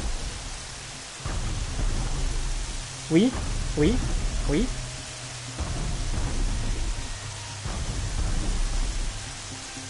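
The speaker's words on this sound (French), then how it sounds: "La pluie, arrête-toi." Rain and rumbling thunder from the Horizon Zero Dawn video game form a continuous wash of downpour with a few sharp crackling thunder bursts in the middle, while someone talks over it.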